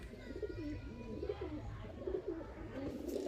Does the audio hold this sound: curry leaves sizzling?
no